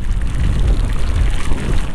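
Steady rain pours down on a Voltz EV1 electric motorcycle ride, a dense, continuous patter with a low rumble underneath and no voices.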